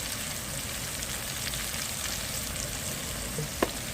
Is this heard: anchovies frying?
yes